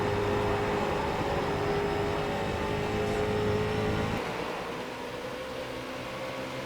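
A Street Stock race car at Iowa Speedway in iRacing holds a steady, loud engine drone under full throttle, then the pitch drops slightly near the end. No one talks.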